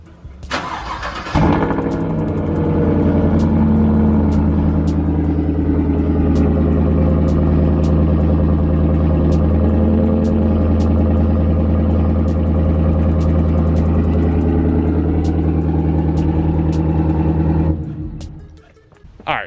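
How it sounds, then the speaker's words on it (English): Pickup truck with a catback exhaust and cold air intake starting up, then idling with a deep, steady rumble for about sixteen seconds before shutting off. "let's give you a little sound clip of what the truck sounds like at this point with just a catback exhaust"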